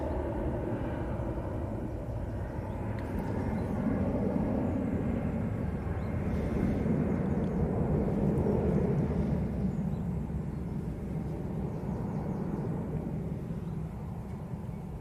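A TUI airliner passes overhead as a low, steady distant rumble that holds evenly throughout, muffled and moderately quiet.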